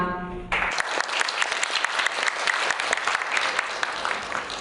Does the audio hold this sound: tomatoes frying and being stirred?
no